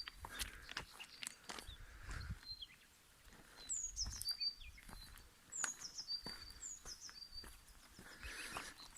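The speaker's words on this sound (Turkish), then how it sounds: "Sadece doğayı dinleyin dostlar. Kuş seslerini." Faint bird chirps and calls scatter over a quiet outdoor backdrop near Gökçedağ railway station and its train bridge, with occasional soft rustles and light footsteps nearby.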